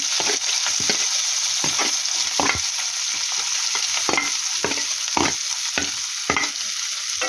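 Onions and green chillies sizzle and fry steadily in a pan, a loud continuous hiss broken by repeated stirring scrapes every half second or so, with no voices.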